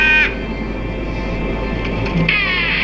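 Crows cawing in a Doctor Who episode, harsh calls at the start and again near the end over a steady low background rumble.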